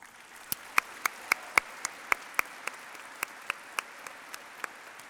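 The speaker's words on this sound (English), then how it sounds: "Let's give them a round of applause." Sharp, evenly spaced hand claps ring out in a steady rhythm at a high school graduation ceremony, about a dozen and a half, with no voices over them.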